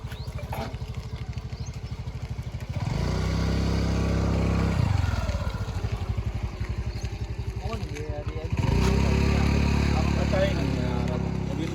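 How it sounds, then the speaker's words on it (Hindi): A motorcycle engine runs and revs up in steady surges, fairly close, with a person talking over the engine noise. "बाइक हटा पहले अपनी, ये बाइक हटाए, यहाँ से निकलने देने को पहले।"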